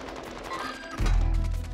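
Close, loud rapid-fire gunshots in Warzone 2 third person mode, a thinner volley giving way to a heavier, booming burst partway through.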